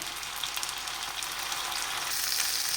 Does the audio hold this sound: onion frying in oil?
yes